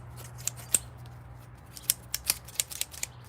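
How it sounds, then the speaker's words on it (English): Scissor blades being sharpened by hand like a knife, the edge knocked clean: a series of short, crisp metallic scrapes and ticks, sparse at first then quicker, close and fairly quiet over a low steady hum. "you take them apart, and you sharpen them just like you would a knife"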